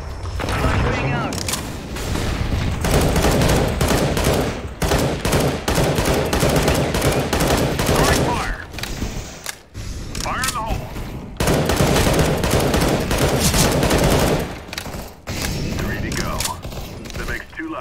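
Bursts of rapid automatic gunfire and explosions in the co-op video game CS:GO, loud and dense with brief gaps between volleys, with a player talking over it.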